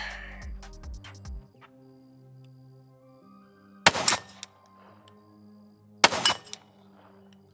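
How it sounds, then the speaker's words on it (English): Glock pistol fired at an outdoor shooting range, two loud, sharp gunshots a couple of seconds apart, each with a brief ringing decay, preceded by faint clicks and handling noise. "I didn't mean to shoot that much."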